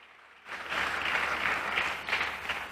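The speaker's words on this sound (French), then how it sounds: "on acclame pour sa présence" A church congregation bursts into applause after a brief pause: sustained, fairly dense clapping from many people in a large room, moderately loud and steady to the end.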